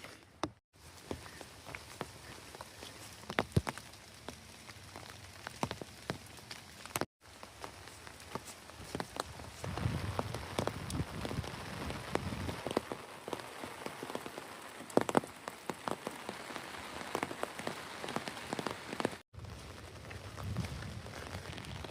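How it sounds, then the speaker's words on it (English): Steady rain patters on a forest hiking trail beside timber roads on the Pacific Crest Trail near Arlington, Washington, forming a dense, continuous hiss broken by a few soft footstep-like knocks and brief dropouts, with no voices. "And it is still raining."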